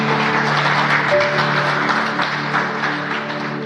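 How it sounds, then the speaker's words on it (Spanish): Church congregation claps for Jesus during a sermon, a loud, continuous burst of applause over a steady tonal hum, easing off slightly near the end. "Dale un aplauso a Jesús."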